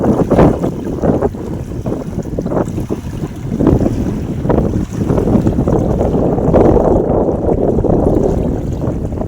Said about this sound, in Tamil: அது தண்ணி அலை சவுண்ட் கேளுங்க